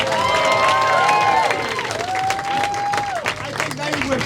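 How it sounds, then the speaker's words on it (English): An audience at a comedy heat breaks into applause, steady clapping with some cheering that fills the room while a voice carries over it. "Give them a round of applause."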